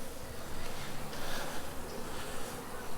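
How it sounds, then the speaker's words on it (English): Bees crowd the entrance of a hive at a farm in Edinburgh, a dense, continuous close-up buzzing hum that stays steady and full throughout with no talking. "the bees are already starting to jam up by the entrance"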